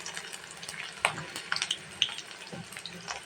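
Chopped onions frying in oil in a kadai, a steady close sizzle with a few brief clicks and stirring knocks, fairly quiet and without speech.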